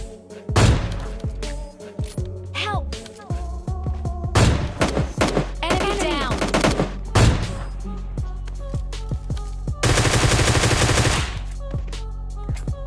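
AWM sniper rifle with an 8x scope firing in a shooting video game: loud, sharp shots at irregular intervals, mixed with other game effects, and a sustained rapid burst of fire toward the end.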